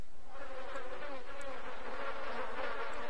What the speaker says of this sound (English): Why are there bees here?